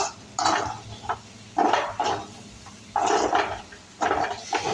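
Masala for a thoran is stirred in a pan, giving repeated scraping and clattering strokes in uneven bursts, close and moderately loud.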